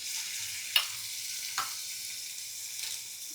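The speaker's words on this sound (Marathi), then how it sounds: "तेल टाकून घेतलं आहे याच्यामध्ये जिरं आणि मिरचीची पेस्ट टाकते" Cumin and chili paste sizzling in hot oil for a fasting-style potato dish, a steady close hiss with a few brief sharp crackles spaced through it.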